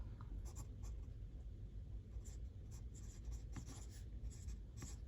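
A pencil scratches on paper in steady, close strokes with quick irregular bursts of scraping throughout, no voices over it.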